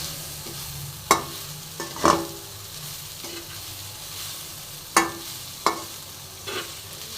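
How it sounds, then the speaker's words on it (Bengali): Sliced pointed gourd and grated coconut are turned together in a pan over a low flame: a soft sizzle runs beneath a handful of sharp, spaced spatula scrapes and knocks. "এবার পটলের সাথে নারকেলটা ভালো মতন আমি মিশিয়ে নেবো"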